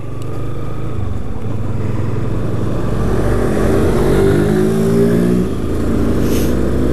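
A Yamaha Fazer 250 motorcycle fitted with its original exhaust revs close by, the engine note climbing and holding in rising sweeps before settling, loud and continuous with no talk over it.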